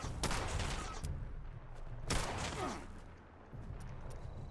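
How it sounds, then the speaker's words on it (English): Gunfire in Fallout 76, two loud bursts of shots about two seconds apart, each trailing off into rattling echo, over a low background rumble with no talking. "I'm getting shot by something."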